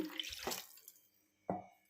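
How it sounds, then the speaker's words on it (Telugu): Water splashes into a pot of egg curry in two short pours, a longer gush first and then a brief second splash after a quiet pause. "ఇంకా కొంచెం వేసుకుందాం వాటరు"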